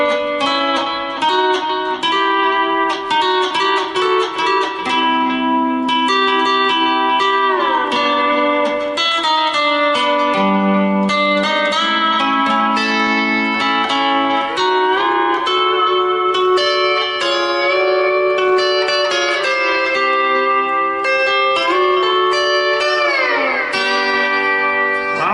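Lap steel guitar playing an old-country style lick, notes sliding up and down by a whole step then a half step, loud and sustained with steady chords underneath and no talking.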